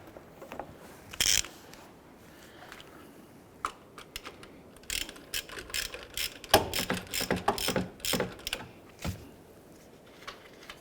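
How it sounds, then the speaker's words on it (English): A ratchet with a 19mm socket works the harmonic balancer bolt on a 2001-2005 Honda Civic, a few isolated clicks at first, then a rapid run of sharp ratcheting bursts, close and crisp, with quiet gaps between strokes. "Using a 19mm socket, we're going to head and loosen and remove the harmonic balancer bolt"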